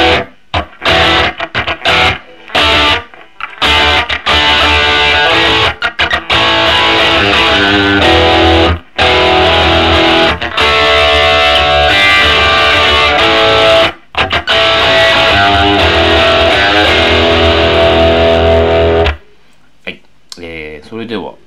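Electric guitar played through a Guyatone H&M Model 30 amplifier on a crunch setting, loud and dense with overdriven chords and riffs, broken by short pauses and ending in quieter fading notes.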